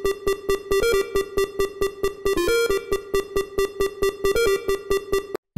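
A bright chiptune lead synth, the Mono Plumber patch, plays a quick bouncy melody of steady pulsing notes with small pitch jumps, buzzy and loud with no voices.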